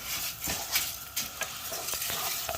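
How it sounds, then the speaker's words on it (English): Rice toasting in oil in a pan while being stirred for Spanish rice, a steady close sizzle with several scraping stirs, no talking. "we're gonna get this rice nice and golden brown, toasty"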